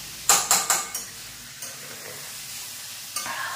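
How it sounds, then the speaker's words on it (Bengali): Potatoes frying in a pan are stirred in a home kitchen, with a few quick scraping clinks of a spatula in a burst near the start and one more later, over a soft, steady sizzle. "আলু ভেজে দিচ্ছি"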